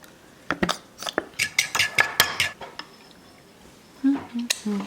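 Vanilla syrup sauce being mixed in a bowl: a quick series of close clinks and taps of a utensil against the bowl, a short pause, then a few lower knocks.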